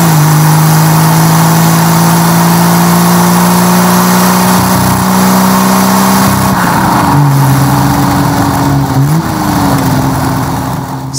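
A 1965 Chevrolet Corvair Corsa with four carburetors revs loudly and close up, its engine note holding steady then dipping and rising again in a couple of throttle changes.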